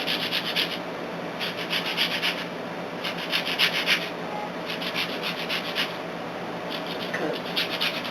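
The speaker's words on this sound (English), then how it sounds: "now let me put in just a little bit of lemon zest" Lemon zest being grated for a turkey lasagna cheese mixture: a run of short, rhythmic scraping strokes in quick bursts, close and moderately loud over a low kitchen background.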